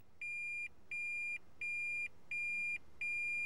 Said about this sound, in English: a buzzer will sound